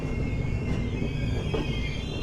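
A railway train runs steadily on Indian tracks with a low continuous rumble and faint wheel squeal, heard at moderate level with no talking.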